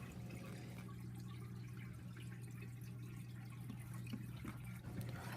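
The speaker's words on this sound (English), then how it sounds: "This overflow allows water to dump right back into the sump." Steady rushing and trickling of aquaponics aquarium water draining through an overflow into a sump tank, with a constant low pump hum underneath, continuous and fairly close.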